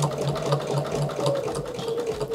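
A sewing machine stitches a quilt with a continuous, close, rhythmic whir and rapid needle ticking at a steady pace.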